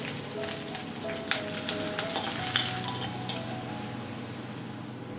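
Pinch of fenugreek seeds sizzling in hot coconut oil in a pot, a steady soft crackle with a few sharper pops, no voices.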